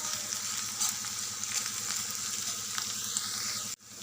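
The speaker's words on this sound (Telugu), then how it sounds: "2 రెమ్మల కరివేపాకు, 1 స్పూన్ అల్లం వెల్లిపాయ పేస్ట్ వేసి పచ్చివాసన పోయేదాకా మగ్గనివ్వాలి." Curry leaves and ginger-garlic paste sizzle steadily in a hot pan for egg curry. The frying is close and continuous and stops abruptly near the end.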